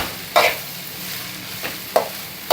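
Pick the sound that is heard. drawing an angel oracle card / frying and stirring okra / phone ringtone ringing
frying and stirring okra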